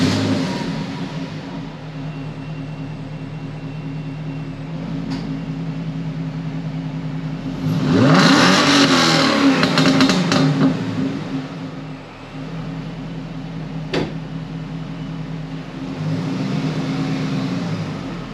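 A car engine, the owner's daily driver in an Australian garage, idles with a steady hum and then revs up loudly in a single surge lasting a few seconds before settling, with a second lighter rev later; no talking.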